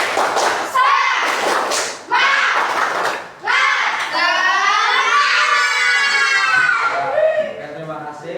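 Schoolchildren in a classroom do a rhythmic spirit clap. Bursts of clapping and thumps mix with the children's loud chanting voices in quick, bright phrases, ending in a long sustained group shout.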